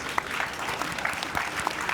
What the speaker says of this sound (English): Can we get a round of applause for these amazing panelists, please?